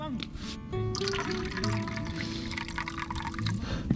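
Hokkaido-only Coappu Guarana cola is poured into a cup at a campsite, with a short fizzy liquid splash and trickle. A voice talks over the pour.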